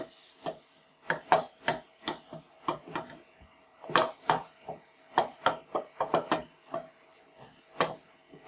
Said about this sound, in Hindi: अब ये और ये दोनों चीज़ें सूजी और आलू मिक्स कर लेंगे।